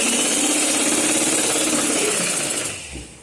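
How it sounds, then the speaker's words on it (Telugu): Sewing machine stitching a seam on women's pants, a loud, steady rapid whirring run that holds for most of the clip and then slows and stops near the end. "ఫస్ట్ గట్టి కుట్టు వేసుకోవాలి"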